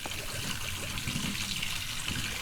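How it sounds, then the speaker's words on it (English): Rusty water pours steadily into a container to water a weed in a botany setting, a continuous close trickling splash with no talk. "Fill it. Rusty water."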